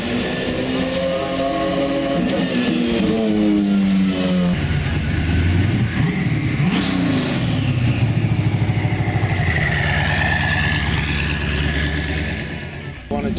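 Supercar engines rev loudly at Monterey Car Week, a continuous, roaring, close-up rasp. Pitch climbs and falls through repeated throttle blips and gear changes, with a second engine sweeping up toward the end.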